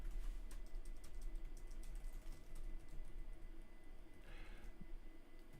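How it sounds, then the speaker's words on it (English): Keystrokes on the compact keyboard of an Uperfect X Mini lapdock, a steady run of soft, quick clicks close by over a constant low background hum, with no voices. "The Uperfect keys, it feels like I need to press a bit more to initiate the press."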